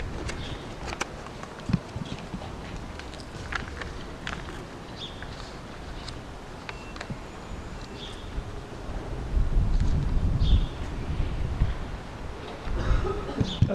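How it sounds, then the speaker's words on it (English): Strong wind blowing outdoors in Birkirkara, Malta, a steady rushing roar buffeting the microphone that swells louder toward the end, with scattered faint clicks and knocks of street life beneath. "Ooh, wind is blowing strong."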